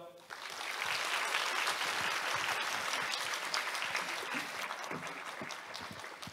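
Sustained audience applause after a talk at a Korean climate-satellite forum, a dense wash of clapping that swells quickly and holds steady throughout, with some faint voices mixed in beneath it.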